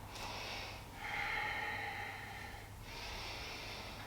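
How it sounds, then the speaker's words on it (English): Slow, deep breaths drawn in and let out during a gentle flowing movement exercise, soft and close with no talking. "Breathing in"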